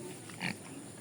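Native pigs with newborn piglets on a farm, a low burst of grunting near the middle over steady background noise, short and moderately close.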